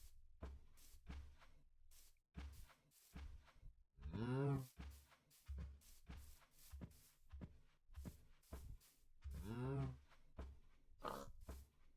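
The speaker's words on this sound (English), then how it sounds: "Is there any other cows laying around here? Any other moos?" A blocky cow in the Minecraft video game moos in two long, drawn-out calls, fairly loud and close, amid a steady run of short clicking and stepping game sounds.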